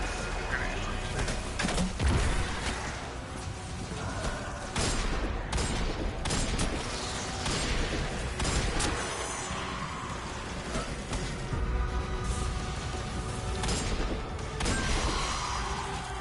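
Grenade launcher fire from a Titan guardian in the shooter Destiny: dense, continuous gunfire and blasts, with crackling bursts and booms layered over a busy battle din throughout.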